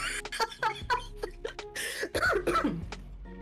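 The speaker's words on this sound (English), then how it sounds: "Just get in here and start coughing up a lung." A person coughs in a string of short, sharp bursts close to the mic, mixed with throat clearing and bits of chuckling, with voices talking around the coughs.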